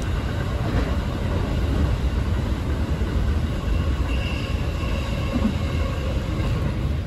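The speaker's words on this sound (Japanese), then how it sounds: "まだまだ電車は止まりません" A local train on Japan's JR Chuo Main Line between Takao and Kofu rumbles steadily along the rails through a long tunnel, a loud continuous roar with faint rhythmic clatter and a thin wheel squeal, heard from inside a carriage.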